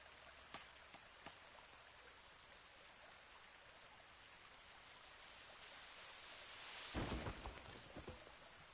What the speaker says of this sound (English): the water sounds nice in the headset